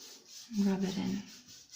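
Soft pastel rubbed into paper by hand, a brief, faint soft scrubbing lasting about a second, heard alone.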